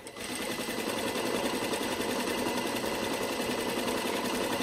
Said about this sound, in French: on fait notre deuxième piqûre à 2 mm